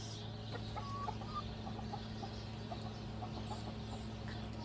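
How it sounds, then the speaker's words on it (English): A Colombian Rock Cross hen clucks softly now and then among other farmyard chickens, faint and somewhat distant over a steady low hum. "There's Lily. Colombian Rock Cross."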